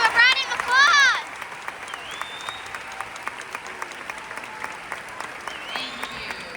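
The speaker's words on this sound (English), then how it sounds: "please give them a round of applause for all of their dedication" A graduation-ceremony audience breaks into loud applause at the start, and the clapping quickly fades. Quiet room tone and scattered small noises follow.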